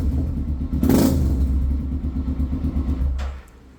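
A Hero Xpulse 200 motorcycle engine runs close by with a steady low rumble that rises briefly as the throttle is blipped, then settles back to idle and cuts quieter near the end.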